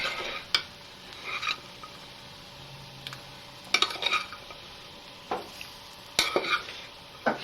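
A spoon stirs vegetables into a simmering couscous sauce in a pot, giving a few scattered scrapes and clinks over a low, steady sizzle, fairly close and without talk.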